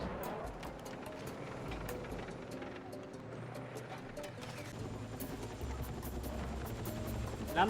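A helicopter in the video game Battlefield 6, its steady rotor and engine drone holding throughout at moderate distance beneath a busy mix of other vehicle and battle noise.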